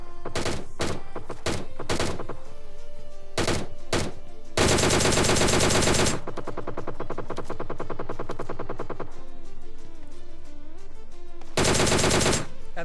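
Rapid G3 rifle fire in the online battle game PUBG Lite, with loud bursts of automatic shots, long sustained volleys and short quick strings, recurring throughout and close.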